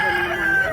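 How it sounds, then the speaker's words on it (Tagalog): Chickens cluck and call loudly and close by in one short burst at a busy chicken market in Mantalungon, Cebu. "Manok."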